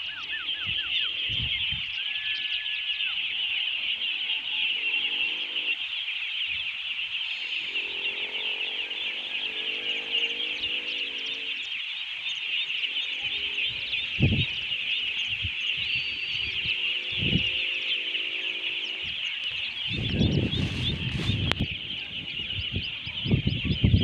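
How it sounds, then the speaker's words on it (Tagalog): Free-range ducklings on a Philippine duck farm quack and chatter in a steady, busy flock over a constant high insect-like drone, with a few louder bumps and rustles near the end. "Yan po yung mga itik ko at sabayan nyo po ako."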